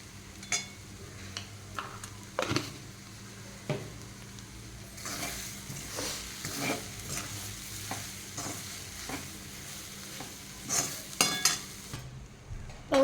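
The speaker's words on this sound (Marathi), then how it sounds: "छान प्रकारे आपण ते फ्राय करून घेत आहोत" Soybean paratha frying in a pan, a low steady sizzle under repeated scraping and stirring clicks of a utensil, close and moderately quiet.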